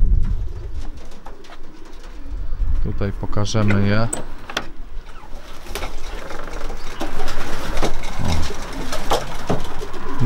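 Pigeons cooing indoors in a loft amid rustling and shuffling, while people talk nearby.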